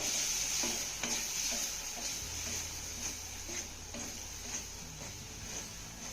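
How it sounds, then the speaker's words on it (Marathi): Spices with turmeric, coriander powder and salt are sautéed in a pan, giving a soft, continuous sizzle broken by repeated light scraping strokes of stirring, all fairly faint. "आता हे घातलेले सगळे मसाले आपल्याला अर्धा मिनटं चांगलं परतून घ्यायचे"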